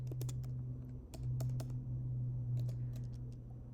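Computer keyboard typing while writing Swift code in Xcode: bursts of crisp key clicks in quick irregular runs over a steady low hum, close and clear with no talking.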